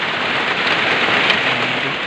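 Steady rain falls on a rural farm plot, a dense, loud, continuous patter on surfaces and foliage with no voices over it.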